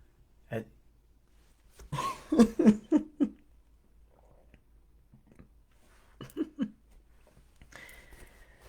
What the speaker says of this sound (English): I choked on a chia seed